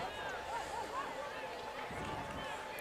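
A high school football crowd in the stands roars in a steady, distant wash of cheering and shouting voices, with a few rising whoops standing out over the continuous crowd noise.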